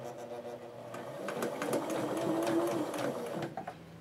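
A sewing machine stitches a seam line on fabric, a close, steady mechanical whir with a rapid rhythmic chatter that swells midway and then winds down.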